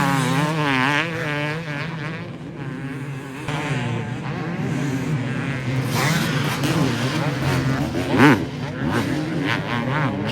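Two-stroke motocross bikes race on a Glen Helen dirt track during an open pro moto, engines revving and wailing with shifting pitch, loud and continuous, with a spike of throttle near the end and a commentator's voice faintly mixed in.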